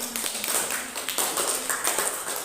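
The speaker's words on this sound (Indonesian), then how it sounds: "Ya, kita kasih tepuk tangan untuk." A classroom of students applauds together, a steady patter of quick hand claps filling the short stretch at moderate loudness with no talking over it.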